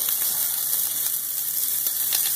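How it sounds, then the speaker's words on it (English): Shrimp sizzle steadily in a hot pan, a bright hissing crackle with scattered pops and light scraping as they are turned, close and continuous. "Our shrimp look ready to be flipped."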